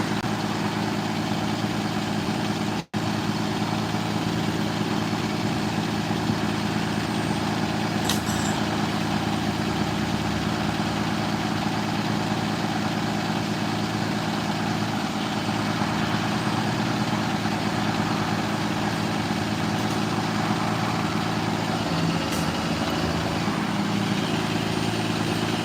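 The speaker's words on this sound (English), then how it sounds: "The tow truck did pull up right next to me here." A tow truck's engine idles close by at the scene of a street car accident, a loud, steady low rumble that holds unbroken, with one brief sharp click near the start.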